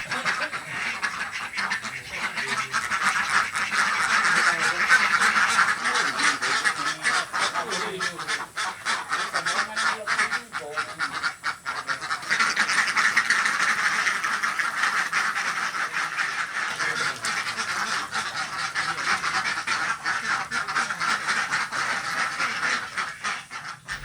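A flock of laying ducks on a village farm quacks continuously and loudly, a dense overlapping chorus of honking calls that persists throughout with little pause.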